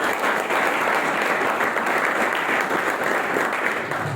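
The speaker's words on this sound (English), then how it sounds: "a big round of applause to Captain Venzy Viegas" An audience at an academy event gives a big round of applause, dense continuous clapping from many hands, loud and steady throughout with no talk over it.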